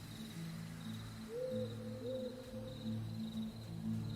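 Soft, low hooting bird calls from the video game Bastion repeat over a steady ambient bed with a faint high tone, moderately quiet and without speech.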